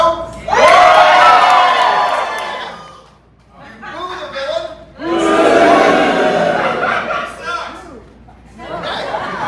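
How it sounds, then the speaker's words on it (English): A theatre audience at a festival show cheers and shouts in loud bursts, with laughter and children's voices, rising twice in big swells separated by a quieter lull. "So we ask you that you cheer for the hero."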